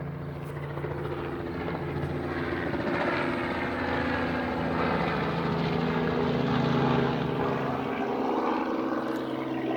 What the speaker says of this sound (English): this helicopter flying over me right now